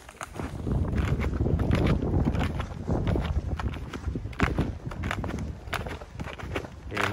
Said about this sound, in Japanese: スノーシュー持ってきたので、ここからはスノーシューつけて歩いてみたいと思います。